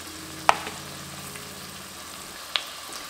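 Garlic fries in a pot with softened onions, giving a soft, steady sizzle close by, broken by two sharp utensil taps.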